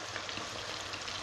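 Quail frying in hot oil in a wide pan, a steady dense sizzle with fine crackling pops, close and moderately quiet, with no voices.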